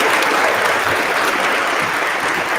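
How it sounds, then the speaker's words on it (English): An audience at the EFF Awards 2022 applauds award winner Kyle Means, with a loud, dense, continuous burst of clapping from many hands lasting the whole stretch. "Please join me now in applauding Kyle Means and recognizing his work with the EFF Awards."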